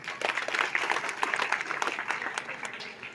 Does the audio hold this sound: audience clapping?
yes